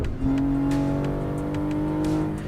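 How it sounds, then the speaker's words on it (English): BMW engine in a racing simulator game, a loud steady droning engine note with a sustained tonal hum, holding near-constant pitch and slightly rising, close and continuous. "I'm driving a BMW with paddle shifter"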